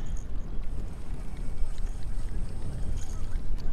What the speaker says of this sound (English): Riding the big waves.